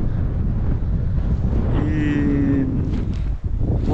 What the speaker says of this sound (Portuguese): Hoje está muito vento